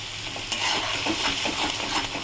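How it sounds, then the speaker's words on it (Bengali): Mustard and almond paste sautés in a pan for bhetki fish in mustard sauce. A steady, close sizzle and frying hiss runs throughout, with soft stirring scrapes over it and no talking. "এবার এটাকে ভালো করে কষিয়ে নিয়ে ফিরছি।"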